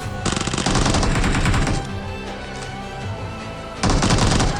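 An Uzi submachine gun fires in the PUBG video game, with loud, rapid automatic bursts up close: one long burst, a lull filled with rumbling echo, then another sharp burst at the end.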